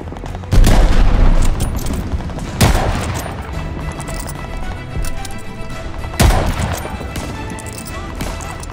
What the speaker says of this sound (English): Goddamn, he's got an MG42.